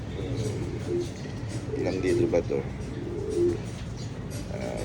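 Pet pigeons or doves coo softly in a low, rolling murmur, repeated several times under a man's nearby speech and steady background noise.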